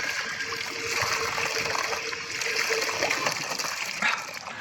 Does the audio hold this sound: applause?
no